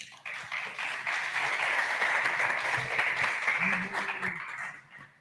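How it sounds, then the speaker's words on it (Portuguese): Audience applause greeting a speaker before a data-storytelling talk, a steady wash of clapping that swells quickly, holds for several seconds and tapers off at the end, with faint voices in the room beneath it. "Uma salva de palmas."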